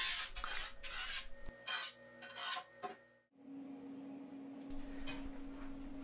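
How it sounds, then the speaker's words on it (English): Steel workbench pieces being ground with an angle grinder, several short rasping scrapes of abrasive on metal in bursts, then a quieter steady hum, close by and moderately loud, no talking. "I'm just going to start grinding them one at a time."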